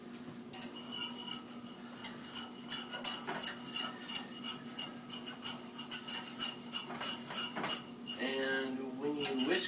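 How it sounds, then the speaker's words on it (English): A whisk rapidly scraping and clinking around a pot as a flour roux for potato soup is beaten, a quick rhythmic metallic rasp over a low steady hum, with a short voiced sound near the end. "when you whisk the roux, you don't want it to be too liquidy"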